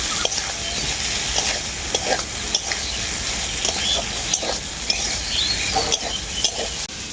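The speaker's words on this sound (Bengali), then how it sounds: "এখন এর মধ্যে দিয়ে দেবো ভেজে রাখা আলু আলুটাকেও মশলার সাথে আমি খুব ভালো করে কষিয়ে নেব" Fried potatoes stirred with spice paste in a pan for a snakehead (shol) fish curry, a steady close sizzle of frying with repeated scraping and stirring strokes throughout, no talking.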